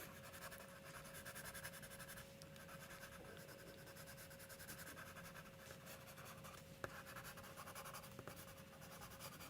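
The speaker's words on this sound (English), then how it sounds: "So I'll go in with another layer of this pencil, this 6B." A soft 6B graphite pencil shades over paper, making steady, continuous scratching strokes that stay quiet and close throughout, with no voices.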